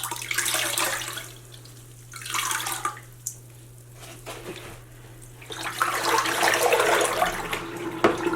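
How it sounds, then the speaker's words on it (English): Tap water running and splashing as dye is rinsed from wool roving in a pan, coming in bursts with short pauses between, close and fairly loud over a steady low hum. "we just started rinsing out all of the dye"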